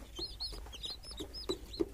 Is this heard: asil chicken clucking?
yes